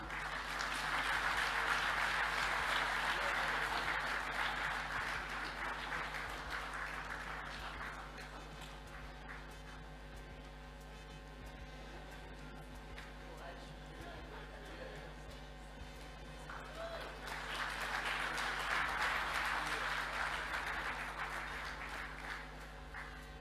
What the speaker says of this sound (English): shall we applaud him again?